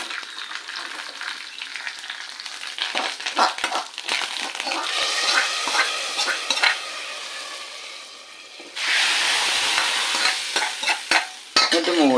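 Dried red chillies and curry leaves crackle and sizzle in hot oil in a pan, a steady bright frying hiss with a few sharp pops and stirring scrapes, swelling louder near the end.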